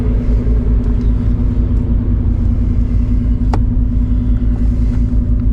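A Lamborghini cruises at night with a loud, deep engine rumble heard from inside the cabin. The steady drone holds throughout, with a brief click partway through.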